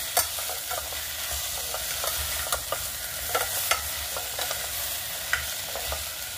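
Mushroom pulav cooks in a pan, frying with a constant sizzle while a spoon stirs and scrapes the pan in irregular clicks, close and steady with no talking.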